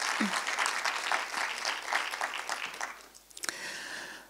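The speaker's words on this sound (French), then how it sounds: "Oui, on peut l'applaudir, je pense." An audience at a conference talk applauds a speaker with dense, steady clapping that fills the room for about three seconds. It then thins out, and a few scattered claps and noises follow.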